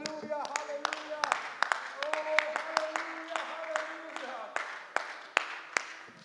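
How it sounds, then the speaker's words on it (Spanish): Church congregation applauding during a worship service, sharp scattered claps from several people ringing out over sustained singing or chanting voices, fairly close and moderately loud throughout. "vamos a darle un aplauso"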